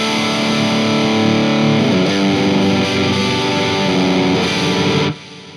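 An electric guitar runs through an inexpensive overdrive pedal into a clean amp channel with slight reverb and delay, giving loud, aggressive, gritty sustained chords that ring steadily and then cut off abruptly.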